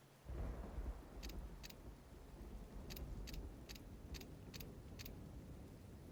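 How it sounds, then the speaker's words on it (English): Thunderstorm ambience from the Train map in Counter-Strike: a steady, loud wash of heavy rain and low rumbling thunder. A series of short, faint high-pitched horn-like blips repeat in the background. "ambient noise on train. I haven't really actually taken a moment to listen to it, but a lot of car horns, thunderstorms."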